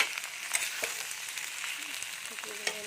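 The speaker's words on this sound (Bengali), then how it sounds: "পেঁয়াজ ভাজা হয়ে গেছে আমি এর মধ্যে দিয়ে দেবো আলু আর কচি কলাটা" Potatoes and green banana sizzle steadily in a pan with fried onions, a soft, even frying hiss with occasional stirring clicks, moderately quiet and without talk.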